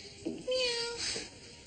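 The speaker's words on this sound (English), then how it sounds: "I swear I saw a cat run in here after a mouse." A cat gives a single short, clear meow nearby, rising and then falling, in a quiet room.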